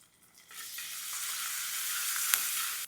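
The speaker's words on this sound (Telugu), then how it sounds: "ఈ మూడింటి పచ్చివాసన పోయేంత వరకు వేయించండి." Onions with curry leaves, turmeric and ginger-garlic paste fry in a pan for a spicy chicken curry, giving a steady, loud broadband sizzle that swells after a quiet start and keeps going, with one brief clink of stirring near the end.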